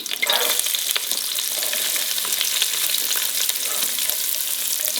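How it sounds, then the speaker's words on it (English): Sliced onion and green chilies sizzle loudly in a hot pan, with broad crackling frying noise and occasional stirring scrapes, close and continuous. "Stir it till it becomes translucent and onion loses its raw flavor."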